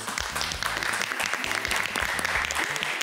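Studio audience applauding steadily on a Turkish daytime cooking competition show as finalists are introduced, dense clapping filling the whole stretch with a faint voice beneath.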